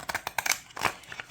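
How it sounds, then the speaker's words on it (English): Decorative edging scissors snip a fancy border along an index card, a quick run of about eight close, crisp crunching cuts over roughly a second and a half, alone with no talk. "I'm going to use these fun scissors and cut like a fancy little kind of border around it"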